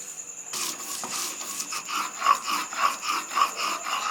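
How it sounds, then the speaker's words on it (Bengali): Poppy seeds and green chilli are ground by hand on a flat grinding stone, giving a steady, rhythmic scraping and rubbing that repeats about twice a second, close up and alone. "এবার পোস্ত আর কাঁচা লঙ্কাটা শিলে বেটে নেব"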